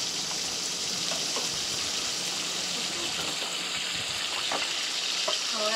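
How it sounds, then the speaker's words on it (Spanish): Seasoned mojarra (rock bass) fries in a pan with a steady, close hiss and sizzle, dotted with small pops and crackles, with no talking. "Carmen seasoned the mojarra and now we're frying it"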